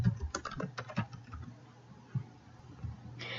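Keys clatter on a computer keyboard in a quick, uneven burst of close clicks, thinning to a few scattered taps and then a brief final flurry, with no voices.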